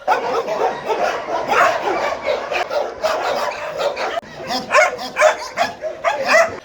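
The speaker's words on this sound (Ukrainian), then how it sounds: "Хтось голосно гавкав, можливо, через важке минуле або страх." Many dogs bark at once at an animal shelter in a noisy, overlapping chorus, with sharp yips and steady woofs continuing throughout at close range.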